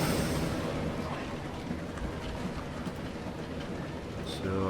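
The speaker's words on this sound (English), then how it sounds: "So it's a nice, you call it the banana train." A passing train rolls by with a dense, steady rumble and rattle of railcars, loud and close throughout.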